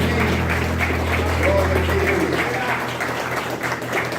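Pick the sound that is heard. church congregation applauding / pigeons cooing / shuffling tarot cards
church congregation applauding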